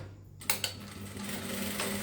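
Sewing machine stitching a zipper onto a cosmetic bag, a short mechanical clack at the start and then a steady close whirring run.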